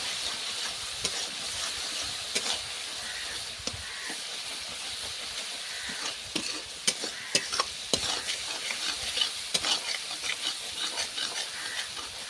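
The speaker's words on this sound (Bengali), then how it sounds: "10-15 মিনিট ধরে ভালো করে মশলাটা নেড়ে চেড়ে কষিয়ে নেব" Chili and turmeric masala fries in a pan for Bengali mutton curry, a continuous sizzling hiss broken by repeated scraping and clinking strokes of a spoon stirring the spices, with no talk.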